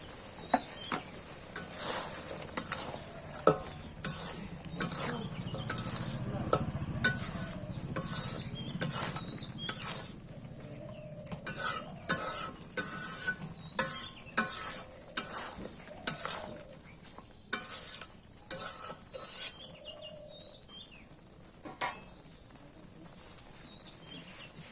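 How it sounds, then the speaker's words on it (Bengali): Beef and potatoes stirred in a pot over a clay stove, with repeated scraping clinks of a utensil against the pot over a soft low sizzle, steady throughout and fairly close. "এবার আলু দিয়ে দিই, আলু দিয়ে আর একটা কষায় নিই।"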